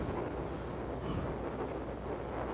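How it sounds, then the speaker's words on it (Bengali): A speed boat runs on open water near a yacht club on the way to Elephanta Caves off Mumbai, a steady wash of engine and water noise buffeted by wind, with no voices. "একটা স্পিড বোট যাচ্ছে"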